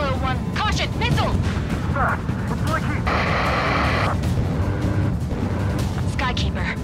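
A missile explosion in the Ace Combat 7 jet combat video game, heard as a loud, sustained roaring blast with dense low rumble, mixed with radio chatter voices over continuous engine noise.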